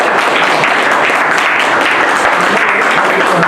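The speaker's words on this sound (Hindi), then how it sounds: "ताली बजा दिया" A crowd at a memorial gathering applauds loudly and continuously, a thick, even roar of many hands clapping close by.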